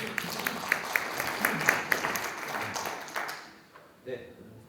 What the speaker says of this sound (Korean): 소진영 교수님 큰 박수로 모시겠습니다